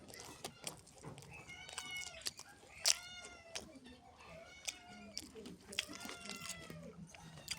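Several cats meowing after being fed, repeated short cries scattered across the clip, some near and loud, with faint voices and background noise between them.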